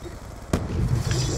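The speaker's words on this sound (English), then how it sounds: "Oh, that's a grenade." A single sharp grenade blast in Call of Duty: Black Ops 2 bursts out of a steady background of game noise, loud, brief and up close.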